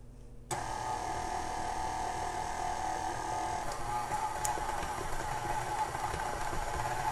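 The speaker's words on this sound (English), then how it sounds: "We're gonna mix this until the dough comes together. Start out slow and then you can gain speed" An electric stand mixer beats cookie dough, starting abruptly and running as a steady, close motor whir with a constant hum throughout.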